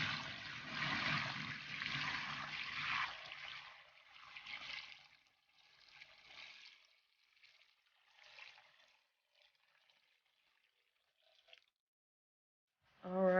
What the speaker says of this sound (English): So I'm now pouring the water into the basin.